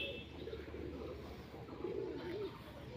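A dove in a rural setting gives soft, low cooing calls, repeated through the stretch with one clearer phrase near the end, moderately close over quiet outdoor background.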